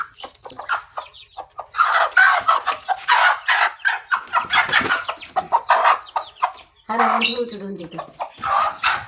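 A hen sitting on her eggs clucks and croons in repeated bursts, close and loud, with one drawn-out call near the end.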